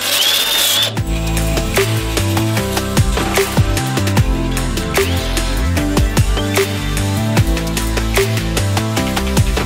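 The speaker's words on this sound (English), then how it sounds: "and then we can drill them out with the grinder thing." A power tool grinds and drills at rust spots on the body of a Mustang barn find, buzzing loud and close in repeated short bursts with brief pauses between them.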